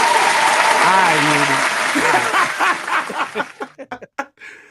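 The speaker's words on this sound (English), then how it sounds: "Round of applause." An audience at a hip-hop mixshow applauds for a few seconds over a sung or spoken voice with a little laughter, then the sound breaks into a few separate claps as it fades.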